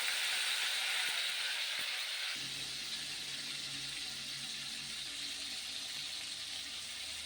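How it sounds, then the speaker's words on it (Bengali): Chopped tomatoes fry in a pan of hot oil with fenugreek and chillies. A loud hiss eases after a couple of seconds into a steady, softer sizzle that continues to the end. "মেথি ভাজা হয়ে গেছে, এখন দিয়ে দেবো টমেটো কুচিগুলো।"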